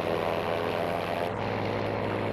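A P-51 Mustang propeller fighter plane in Battlefield V gives off a steady, loud engine drone that holds unbroken throughout, with no voices over it.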